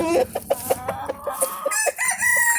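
Several hens cluck in short, repeated bursts close by, with a rooster's crow joining near the end.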